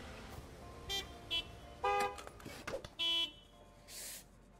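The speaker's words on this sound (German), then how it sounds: "So, wenn die jetzt aufgehört haben zu hupen" Several car horns honk in short separate toots inside the Gas Station Simulator game, some with a buzzy tone, spaced irregularly and of moderate loudness, with no voices over them.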